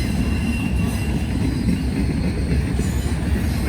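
A rail train rolls past close by, its wheels clattering steadily on the rails with a continuous loud rumble and faint squeal, no voices over it.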